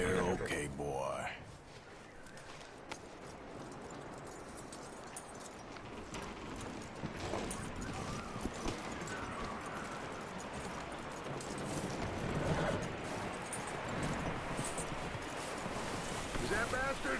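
Horse hooves clip-clopping in Red Dead Redemption 2, a steady run of hoofbeats over wind and ambient outdoor noise, continuing at moderate loudness throughout.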